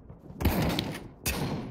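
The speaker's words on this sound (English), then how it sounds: "Follow the gunshots." Two short bursts of gunfire crack out about a second apart in the Pavlov VR shooter game, fairly close and loud over a quiet background.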